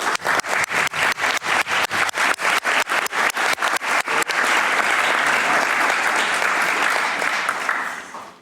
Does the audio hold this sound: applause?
yes